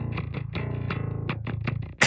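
A thin, plonky bass synth plays a quick run of short, evenly spaced notes with a slightly processed, buzzy edge, alone without any voices.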